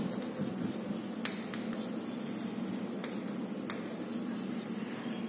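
Math is written on a board during an algebra lesson: faint, continuous scratchy strokes with a few sharper taps as letters form, close by and without talk.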